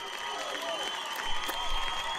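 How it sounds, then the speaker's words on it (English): Studio audience applauding at a comedy panel show, a brief burst of scattered clapping and crowd noise that stays fairly even and moderately loud throughout. "go ahead, you can applause."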